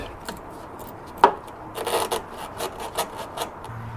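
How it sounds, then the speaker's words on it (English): Hose clamps loosened on the fuel filler neck and vent hose of a Jeep TJ during a fuel pump replacement, giving close, irregular metallic scraping and rubbing with a few sharp clicks, no talking. "What I'm doing right now is loosening the hose clamps for the filler neck and the vent."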